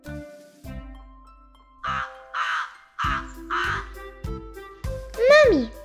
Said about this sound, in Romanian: Cioara face cra-cra!